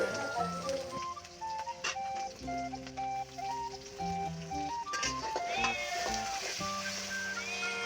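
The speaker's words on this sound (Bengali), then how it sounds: "তেল গরম করে নিয়ে পেঁয়াজ মরিচ কুচি দিয়ে দিব, সাথে দিয়ে দিব লবণ, দিয়ে বাদামি কালার করে ভেজে নিব" Chopped onion and chili frying in hot oil in a wok with salt, a steady close sizzle under bright music.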